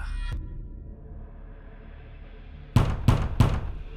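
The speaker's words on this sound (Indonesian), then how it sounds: "itu pintu kamar mandi digedor dari dalam." A bathroom door pounded hard from the inside: three loud, heavy thuds in quick succession near the end, after a single faint knock and a stretch of quiet room tone.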